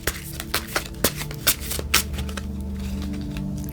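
Tarot cards being shuffled and cut, giving a run of crisp riffling snaps in an uneven rhythm that settles into a soft steady rustle, close and fairly quiet, with a low hum beneath.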